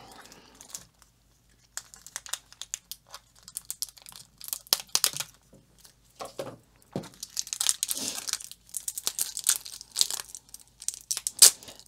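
Plastic packaging being unwrapped from AliExpress diamond painting kits, one of them a 30 by 40 size, giving close bursts of crinkling, tearing and crunching in irregular spurts over about twelve seconds with short quiet gaps and no speech.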